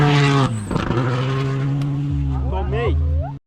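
A rally car blasts past on a special stage of the Erechim rally, its engine roaring loudly up close, then dropping in pitch as it passes and shifts gears, with spectators shouting.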